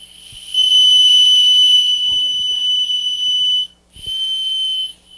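A whistle blown in long, loud, shrill blasts, a sustained piercing tone broken by a short gap before a final blast, with a few low knocks underneath.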